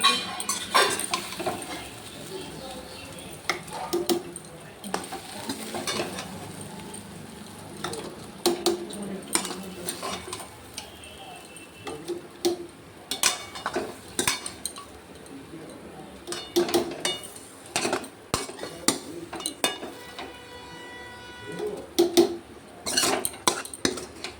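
Pots and utensils clatter and clink at close range as vegetables and lentils go into a pressure cooker of boiling water for khichuri. Irregular knocks, scrapes and stirring come in bursts with brief pauses, and no one speaks.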